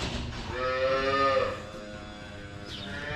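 Young dairy calves moo in a farm calf barn, a long drawn-out bawl swelling and fading over about a second, followed by quieter barn ambience and a faint higher call near the end.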